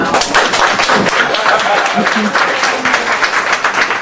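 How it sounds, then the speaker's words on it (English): Audience applause for the host at a stand-up comedy show, loud dense clapping from a crowd, close and continuous throughout with a few heavier thumps mixed in. "Give a round of applause for the host."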